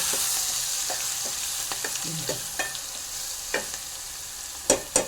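Garlic and coriander sautéing in a pan for dal fry, a continuous close sizzle under scattered scrapes and taps of a stirring spoon, a couple of louder clacks at the end, no voices.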